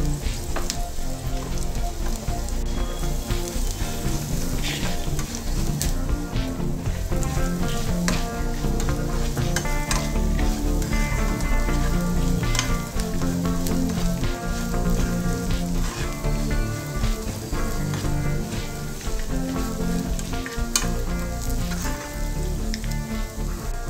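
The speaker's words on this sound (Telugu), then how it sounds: "కాకరకాయ ముక్కలు ఫ్రై అయిన తర్వాత ముందుగా తయారు చేసిన వెల్లుల్లి కారం వేసుకోవాలి." Bitter gourd pieces frying in a pan with garlic chili powder added, a continuous dense sizzle and spatter with scattered pops and faint stirring, close and loud throughout with no talk.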